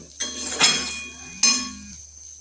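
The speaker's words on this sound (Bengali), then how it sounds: "আমার ছোলাটা ঢেলে দিলাম, ভাজা হয়ে গেছে, এই ঢেলে রাখলাম" Fried chickpeas poured out of a pan, two sharp clinking hits of metal followed by a brief rattling pour, close and clear.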